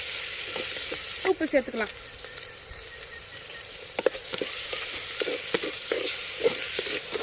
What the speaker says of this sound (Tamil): நல்லா தக்காளி வதங்கிடுச்சு.